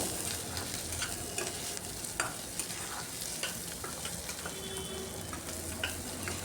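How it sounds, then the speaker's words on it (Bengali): Whole spices frying in a pan for a spiced chicken curry, a steady close sizzle with occasional stirring scrapes and ticks, no talking. "এগুলাকে আমি একটু ভেজে নিচ্ছি"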